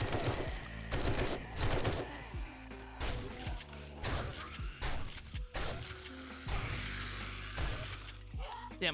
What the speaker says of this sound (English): I'm somehow shooting through the floor before I shoot the zombie